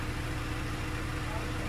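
Steady low idle from a 2021 MINI Cooper S Countryman JCW's 2.0-liter twin-turbo petrol engine, a smooth even hum at close range with no pauses.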